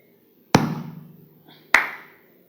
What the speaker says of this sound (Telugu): ఈ సౌండ్ ఏంటంటే క్లాప్ ఇచ్చాడండి ఎక్కడో అంటావు